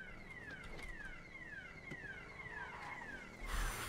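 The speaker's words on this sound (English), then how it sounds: "Alarm's coming from Burger Shot." Heist alarm in GTA V roleplay (NoPixel), a repeating falling electronic whoop cycling about every half second, steady and fairly loud over a low background hum, with a louder burst of noise at the end.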